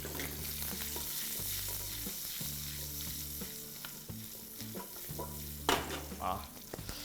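Small whole shallots sautéing in oil for pongal gotsu, a continuous close sizzle with occasional stirring scrapes, layered under background music.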